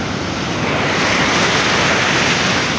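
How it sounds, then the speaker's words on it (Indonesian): Ocean surf crashes at Nyang Nyang Beach in Bali at three in the morning, a loud, unbroken roar of breaking waves close by, mixed with wind, with no voices. "dengerin deburan ombak di jam 3 pagi"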